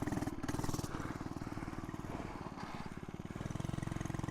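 An FRP GMB100 mini bike engine revs with a rapid, buzzy putter that rises and falls in loudness, sounding close by and alone without speech.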